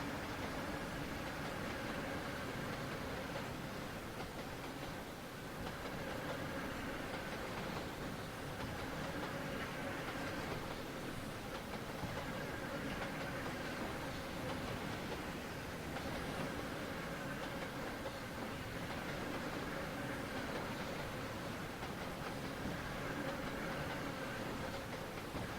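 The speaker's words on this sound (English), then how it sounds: "We're going to get to see the entire train go by." A 34-car freight train from a train video game rolls past steadily for the whole stretch, a continuous rumbling drone of wheels and engine with faint clatter and no talk over it.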